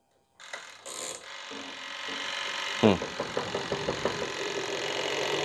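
A twin-tub washing machine's spin dryer, under repair for not working, is plugged in and turned, giving a mechanical whir with a rapid rattling, ratchet-like clicking burst and a repeating clatter over a steady motor hum.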